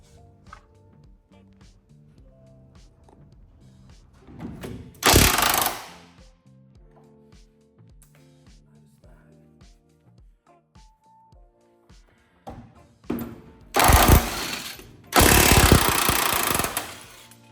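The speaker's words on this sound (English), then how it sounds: "now I've got to drill and tap that out" Bursts of loud, harsh power-tool drilling into a steel chassis rail of a Chrysler Valiant, one around five seconds in and two longer runs near the end, separated by quiet workshop clatter.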